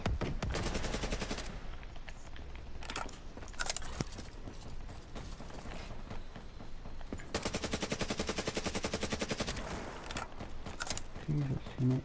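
Gunfire in a first-person shooter video game, long rapid machine-gun bursts rattling close and loud in several stretches, with mechanical clatter between them and voices talking over the fighting.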